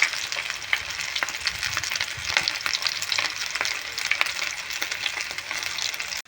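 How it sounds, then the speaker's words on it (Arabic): Halved chicken thigh pieces frying in a pan give a dense, crackling sizzle with frequent small pops and spits, close and continuous, with no voices. "هنا حبايبي بحمر الفراخ"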